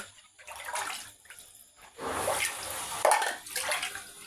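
Water pouring from bottles into a sink basin, an uneven splashing gush that swells and fades in bursts, close and without talking.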